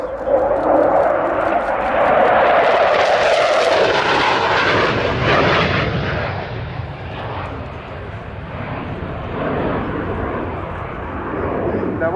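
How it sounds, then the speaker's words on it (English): A Sea Vixen jet flying at an air display roars loudly overhead and then fades gradually into a steady distant engine hum, with commentary underneath. "the Sea Vixen comes into land"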